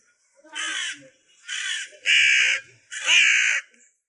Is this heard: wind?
no